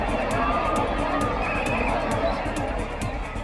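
A dense crowd of pilgrims packs the narrow streets of Kashi, producing a loud, continuous wash of mingled voices and shuffling with no single sound standing out.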